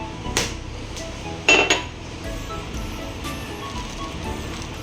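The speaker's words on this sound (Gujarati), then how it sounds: "એને આપણે એક ફોડી લેશું આમ ઠોકીને" A few sharp, hard knocks as a wood apple shell is struck, one single hit followed by a quick double knock, over a quiet background.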